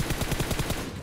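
Rapid automatic gunfire from a BGMI battle-royale match, a fast, even stream of shots filling the whole brief moment with no talking.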